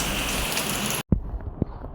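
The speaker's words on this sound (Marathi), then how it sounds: "कामं आपली अडचणीमध्ये पाऊस येतो" Steady rain pours down in a dense, close hiss for about a second, then cuts off abruptly, leaving only faint scattered drips and a few light knocks.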